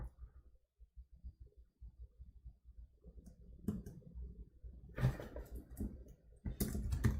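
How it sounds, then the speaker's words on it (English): Irregular soft clicks and taps of someone typing on a computer keyboard, close and fairly quiet, with bursts of louder keystrokes and bumps toward the end, no voices. "Man, typing difficult."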